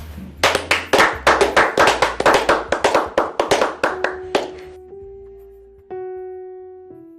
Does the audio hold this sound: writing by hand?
no